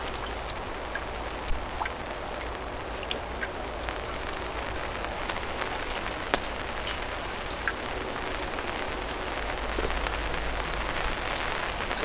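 Steady rain pours down on a bushcraft camp in the woods, a continuous dense patter with scattered sharper drops striking nearby surfaces, with no voices throughout.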